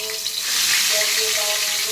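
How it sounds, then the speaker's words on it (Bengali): Katla fish sizzling and frying in hot oil in a wok, a steady dense crackle that swells slightly as pieces are dropped in one by one, close and alone. "মাছগুলোকে আমি এক এক করে ছেড়ে দিচ্ছি।"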